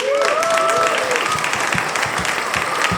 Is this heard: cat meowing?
no